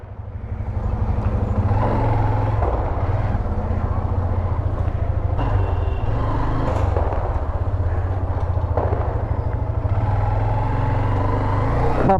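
Hero Xtreme 125R motorcycle idling and being ridden in through a gate at night, a loud steady low engine thrum close to the microphone with faint background voices.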